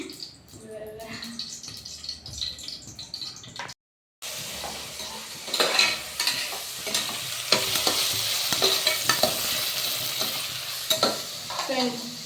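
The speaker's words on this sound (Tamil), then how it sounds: "எண்ணெய் ஊற்றி கொஞ்சம் நெய் சேர்த்து" Oil and ghee sizzle and crackle in a pan while biryani is prepared, a steady hiss with stirring scrapes after a brief pause, over a voice talking at the start.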